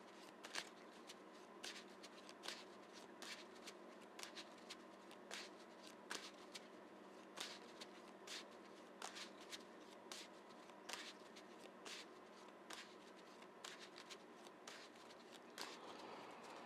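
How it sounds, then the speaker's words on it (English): A deck of playing cards for the Marvel Champions card game is shuffled close up, with quick, repeated riffling bursts in a steady rhythm for the whole stretch, fairly quiet and with no talk. "Really good shuffle here."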